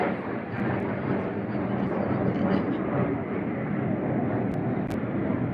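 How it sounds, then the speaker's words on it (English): Loud, continuous roar of a military plane passing overhead, a broad steady rumble that holds through the whole stretch without fading. "it's another military plane. I'm telling you, it's still loud"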